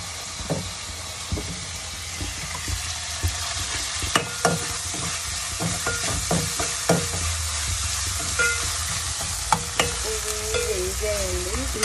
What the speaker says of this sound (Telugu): ఇక్కడ ఫిష్ ఫ్రై చేసేద్దాం.